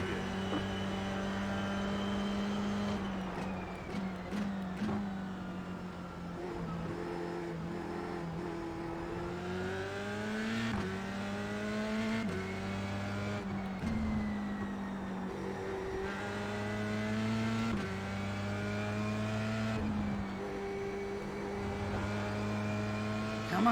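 Race car engine in the iRacing simulator, played in VR: a loud, continuous engine drone whose pitch climbs and drops again and again through gear changes, with no voices over it.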